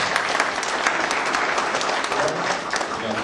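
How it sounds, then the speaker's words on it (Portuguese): Audience at a Portuguese-language business lecture applauding the presenter Juvenal, with dense, steady clapping from a full room holding at an even level throughout. "Muito bem, vamos então aplaudir o Juvenal."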